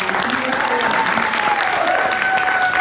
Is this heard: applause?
yes